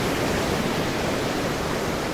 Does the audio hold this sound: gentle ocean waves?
yes